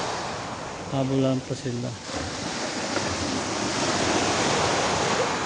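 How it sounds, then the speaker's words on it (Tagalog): Sea waves wash onto a Bicol shore in a steady broadband roar that rises and holds through the clip, with brief voices and a short tonal sound near the start. "yung dagat o"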